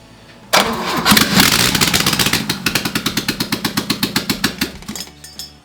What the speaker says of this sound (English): we got the car to crank under its own power